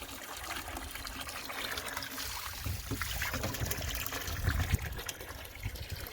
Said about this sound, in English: Ran too much water.